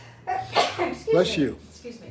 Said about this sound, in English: have to sneeze, excuse me.